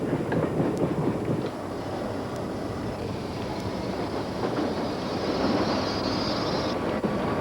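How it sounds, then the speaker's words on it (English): Commuter train running through an underground tunnel beneath the nation's capital, a steady loud rumble with rail clatter and a faint rising whine near the end, no voices. "In a tunnel beneath the nation's capital, a commuter train carries astronomer Benjamin Peary to work"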